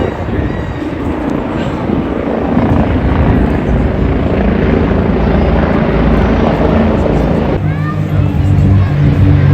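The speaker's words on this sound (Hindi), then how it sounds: "ये हेलीकॉप्टर्स भी जा रहे हैं।" A loud helicopter drones steadily overhead in the streets of Brussels with throbbing rotor noise, close and continuous throughout, swelling slightly toward the end.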